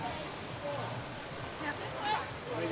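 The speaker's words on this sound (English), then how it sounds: "it's raining." Rain falls steadily outdoors at Disney's Animal Kingdom, a soft even patter with a few faint voices and whistles in the background.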